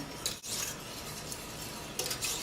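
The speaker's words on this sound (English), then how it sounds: "Whisk all that together." Sauce ingredients, including freshly grated nutmeg, are whisked together in a pan with a continuous close scraping and rubbing texture, briefly louder at two moments.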